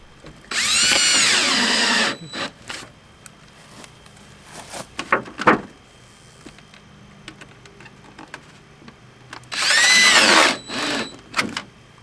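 A power drill fastens flashing onto an old salvaged aluminum mobile-home trailer, running in two loud sustained bursts near the start and end, with scattered knocks and clicks between.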